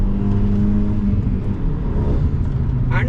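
Hyundai Verna Turbo with chassis braces fitted, its engine droning steadily as it accelerates along a road, heard from inside the car with a brief whoosh near the end.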